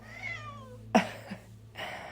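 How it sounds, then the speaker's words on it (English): An indoor house cat lets out a faint, drawn-out meow that bends in pitch, followed by a couple of soft short sounds and a low steady background hum. "we have my cat trying to lay on my cards"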